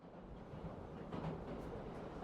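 A Yamanote line commuter train runs along with a steady, muffled rumble and faint rail noise, quiet and continuous throughout with no voices.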